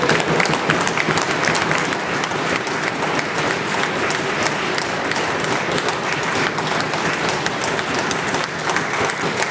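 A crowd of members applauds in the British Columbia legislative assembly, dense sustained clapping filling the chamber for several seconds at strong, even loudness with no voice above it.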